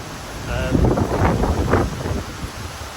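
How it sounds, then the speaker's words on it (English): Strong wind buffets the microphone at a carp fishing lake on a wet March day, loud rumbling gusts that swell and fade over a few seconds, with a voice muffled underneath. "You probably can't even hear me because the wind is that bad."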